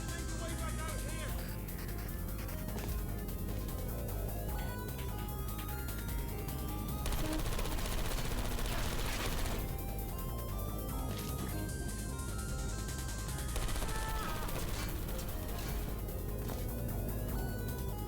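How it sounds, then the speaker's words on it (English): Gunfire in the Portal 2 video game, bursts of rapid shots crackling over a dense layer of game music and effects, with a voice talking over part of the action. "I heard gunfire!"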